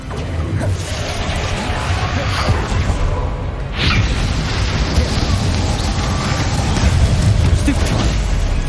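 Confringo spell blasts in Hogwarts Legacy on PS5 erupt amid dense, continuous combat noise, with booming bursts and whooshing magic layered over a loud, steady rumble.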